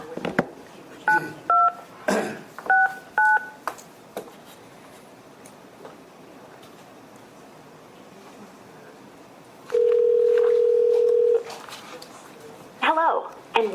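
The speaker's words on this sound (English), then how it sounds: "enter your passcode followed by the pound or hash key, and I'll connect you." Telephone keypad tones dialing into a conference call: short paired beeps in two quick clusters, then a long steady tone, with an automated voice prompting in the background.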